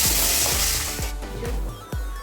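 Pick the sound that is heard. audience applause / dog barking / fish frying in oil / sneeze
fish frying in oil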